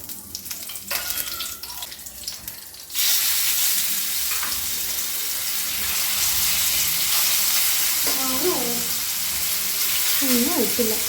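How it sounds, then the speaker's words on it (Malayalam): Chicken frying in a pan gives a steady, loud broadband sizzle that starts abruptly after a few seconds of quieter kitchen noise, with brief voice-like tones near the end. "നമ്മൾ ചിക്കൻ ഒന്ന് ഫ്രൈ ചെയ്തെടുക്കട്ടെ."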